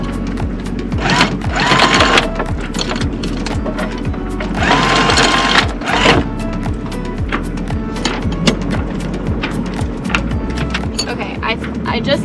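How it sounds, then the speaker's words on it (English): Anchor windlass motor running aboard a 31 ft boat anchored at Catalina Island, a steady mechanical whir with bursts of louder grinding and intermittent knocks throughout. "use the windlass"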